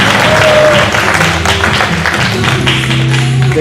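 Applause from an audience at an arts event after a performer's set, a dense, loud wash of clapping blended with room noise, with a low tone lingering underneath.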